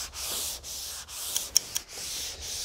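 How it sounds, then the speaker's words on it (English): Rhythmic back-and-forth block sanding strokes rasp across a car hood, about five passes with brief pauses between, close and fairly loud. "as you're sanding, kick the back end of your block out"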